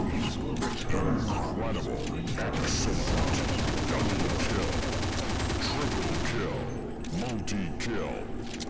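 Rapid automatic fire from a P90 Turtle Rabbit submachine gun in a first-person shooter game, a dense continuous burst of shots over steady game noise, with a voice talking over it.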